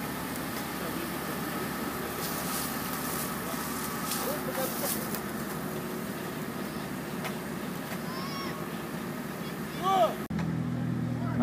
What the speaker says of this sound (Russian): Одним УАЗиком не получилось вытащить, подключили еще второй УАЗик, тоже лебедка.